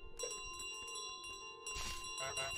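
In Untitled Goose Game, a goose carries a bell across the level, setting off repeated bright metallic rings and clangs that sound fairly faint against quiet game ambience.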